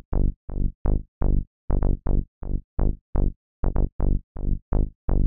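A plain, repetitive bass line of short, punchy synth notes with strong harmonics, about fifteen separate plucks in an uneven rhythm with gaps between them, loud and close with no other instruments.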